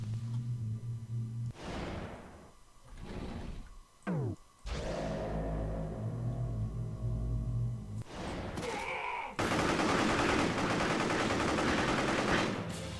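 Gunfire from the video game Psi-Ops: The Mindgate Conspiracy, with a series of sharp shots and bursts separated by brief gaps, then a dense, sustained volley near the end, loud and close with game effects mixed in.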